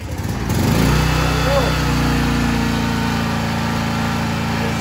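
A Generac 4000EXL generator converted to propane starts and runs close by with a steady, buzzing engine drone that holds an even pitch after a rough first second.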